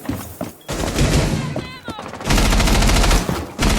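Gunfire in a shooter video game comes in loud, sharp bursts and rapid volleys that are separated by brief gaps. A player's voice talks over some of the shots.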